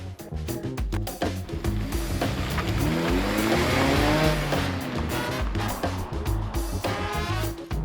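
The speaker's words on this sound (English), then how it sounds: "I'm going to take a drive in the new car." A new Mazda MX-5's engine hums and rises as it drives along, with road and tire noise filling the cabin continuously.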